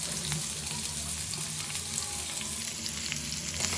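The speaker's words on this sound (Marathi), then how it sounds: "हे बघा तेल आता टाकलेलं आहे आपल्याला कांदा पण भाजत आहे त्याच्यामध्ये" Onion sizzling in hot oil in a pan for a Konkani-style cluster bean dish, a dense continuous crackle with fine spitting pops, close and steady throughout.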